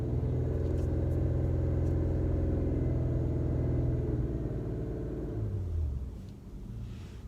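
A 2018 Infiniti Red Sport 400 pulls hard against a Mustang, its steady, loud engine rumble holding strong before easing off near the end, with no talk.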